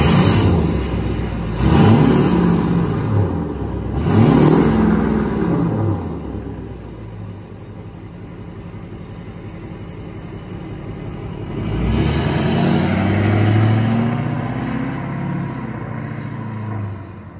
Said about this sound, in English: I feel like the turbo is a little bit louder now.